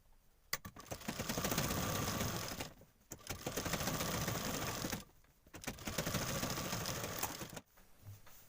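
A sewing machine stitches the neckline of a flared gown in three sustained bursts, each a dense close mechanical rattle separated by brief pauses, with no talking.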